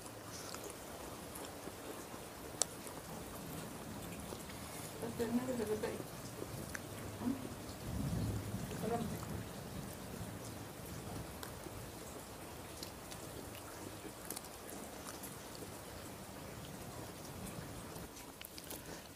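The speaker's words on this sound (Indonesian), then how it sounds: "Banyak petir ya." Heavy rain falls steadily over a village during the evening meal to break the fast, a soft, even patter throughout with a slightly fuller swell midway; no distinct thunder stands out.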